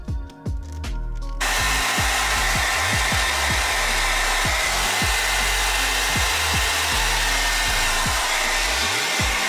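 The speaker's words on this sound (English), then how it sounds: "So now I'm going to blow dry her hair on a low setting, of course." A hair dryer on a low setting blows steadily and loudly through a reborn toddler doll's hair, with a constant whooshing hum after a brief start-up.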